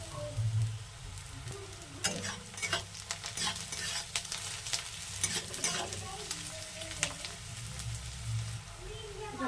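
Onion and garlic sizzle in a pan while a spatula stirs and scrapes in irregular bursts, close and fairly quiet.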